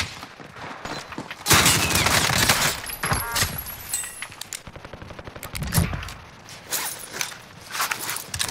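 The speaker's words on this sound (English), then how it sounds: "I'm gonna keep shooting them, Jerry." Call of Duty: Modern Warfare gunfire crackles in loud rapid bursts and scattered single shots over several seconds, mixed with mechanical clicks and shuffling movement.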